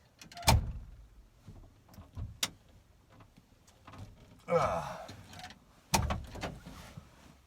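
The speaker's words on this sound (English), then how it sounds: "let's actually make sure the door's closed, right?" An old Jeep door is closed several times, each close giving a sharp, loud thunk up close. Rattles, a longer scraping stretch and quiet handling noises fill the gaps between the slams.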